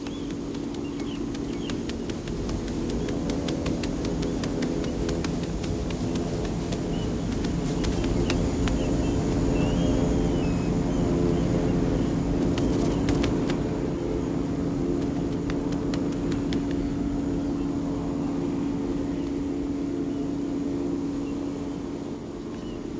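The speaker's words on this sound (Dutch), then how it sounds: "Op de achtergrond is het motorgeronk van het Hercules transportvliegtuig van de kustwacht te horen." A steady low engine drone from a coast guard Hercules transport plane, with dense harmonic bands humming throughout, joined by scattered clicks and faint higher tones; no talking.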